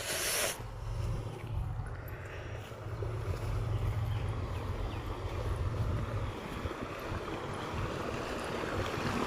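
Water pouring from a borewell outlet in a farm field, a steady broadband rush of flowing water with outdoor wind noise, fairly close and continuous throughout, with no talking.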